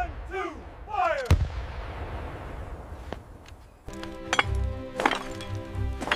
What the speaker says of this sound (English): Target acquired! Gun one, fire! Gun two, fire!